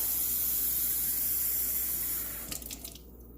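Tap water runs steadily into a measuring cup for rice, a close, hissing, splashing stream that stops near the end, followed by a few light knocks and drips.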